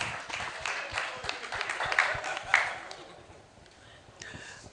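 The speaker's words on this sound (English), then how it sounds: "Ladies and gentlemen, please a round of applause for the convener" Applause from a panel-session audience at a film festival event, a fairly distant wash of clapping that swells and then tapers off toward the end.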